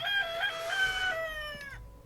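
A rooster crows once in the block-building survival game TerraFirmaCraft, a clear, fairly close cock-a-doodle-doo with a drawn-out falling final note, heard alone.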